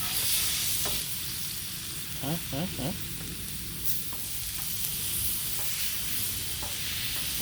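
Beef and mushroom burgers frying on a Blackstone griddle with a loud, steady hiss of sizzling fat, brief metal spatula scrapes and clicks in the middle, and faint talk underneath.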